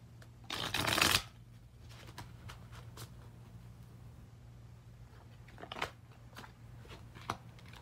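A deck of tarot cards is riffle-shuffled up close in one loud burst of rapid flutter, followed by quieter card handling, taps and slides in a quiet room.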